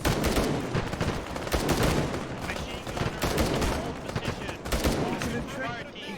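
A squad fires a simultaneous volley in the military shooter game ArmA, with dense overlapping rifle and machine-gun bursts cracking loudly and continuously, voices faintly mixed in beneath the shooting.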